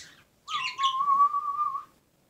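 Pet birds kept indoors give a faint chirp and then a clear, sustained whistled note of about a second and a half, with fluttery warbling above it, heard close and with no talking.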